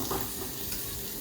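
Garlic fries in a pan with a steady, dense sizzle that holds at an even loudness throughout, with no voices.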